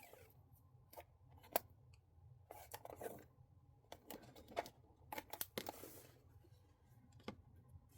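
Scissors snip paper for a movie and show journal in short, quiet, irregular cuts, close and crisp against a faint low background hum, with small crinkles between snips.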